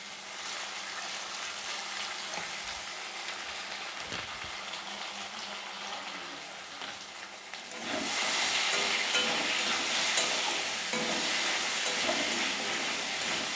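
Potatoes coated in salt and turmeric fry in hot oil for a vegetarian raw banana and potato curry. A steady hissing sizzle swells noticeably louder partway through and then holds strong.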